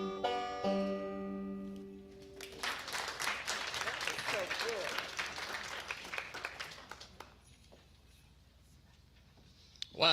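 An audience applauds at a Christmas talent showcase in an art center after a Christmas song ends. The hall fills with a burst of dense clapping that fades out over several seconds, with speech just before and after.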